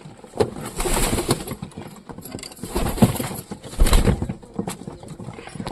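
A flock of pigeons lands to feed on scattered grain nearby. Fluttering wings and pecking come in irregular bursts, with soft bird calls mixed through the busy, close-up commotion.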